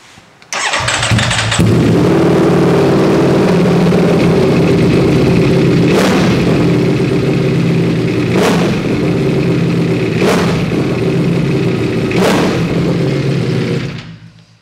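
A V4 motorcycle with an aftermarket exhaust cranks and catches, then settles into a loud, close idle broken by four sharp throttle blips spaced a couple of seconds apart before it cuts off.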